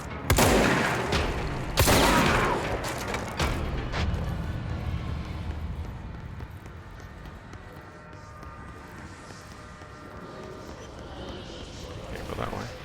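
Gunfire in the video game Control: a few loud, sharp shot bursts up front followed by sustained rumbling action noise that gradually quiets.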